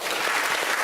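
A studio audience at a comedy game show breaks into a short burst of dense, loud applause that fills the whole moment.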